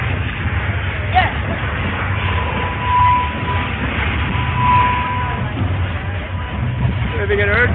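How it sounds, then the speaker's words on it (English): A theme park tour tram rumbles along steadily at Universal Studios Hollywood with a rising roar and squeals, while people talk excitedly over the noise. "Look, the train! The train!"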